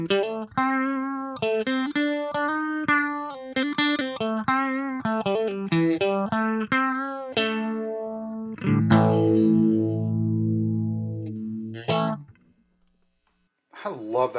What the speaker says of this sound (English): This is a small stone on light mode.